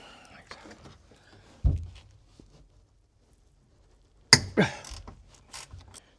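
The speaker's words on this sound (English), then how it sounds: "I'm going to have to do it with a ratchet spanner, not a socket" A ratchet spanner works bolts on a Land Rover Freelander 2 door, giving two short bursts of clicking ratcheting separated by a quiet gap, close by, with faint speech around them.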